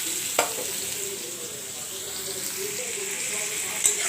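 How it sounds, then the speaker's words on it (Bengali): Salted onions frying in a pan give a soft, steady sizzle, broken by a couple of sharp utensil knocks at the start and end. "দেখো আমার পেঁয়াজটা ভালোভাবে ভাজা ভাজা হয়ে গেছে।"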